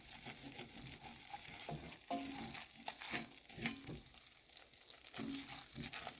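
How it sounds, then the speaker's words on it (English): A flour roux being stirred in a pan over a low gas flame for roast chicken gravy, with a soft, steady scraping and faint sizzle that keeps going for several seconds. "So you want to continually stir until you've cooked off the flour smell."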